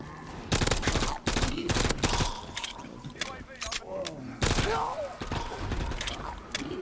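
Pistol fire in Black Ops 3 Zombies, a string of sharp, rapid shots in irregular bursts close up, with voices talking in between.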